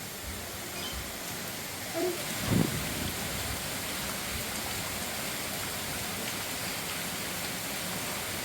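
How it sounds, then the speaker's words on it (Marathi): Light rain falls steadily as an even, soft hiss outside an ancient cave shrine of Lord Shiva at Ambarshe Rishi, with a brief faint knock or rustle near the start. "आणि हलका असा पाऊस पण चालू होता"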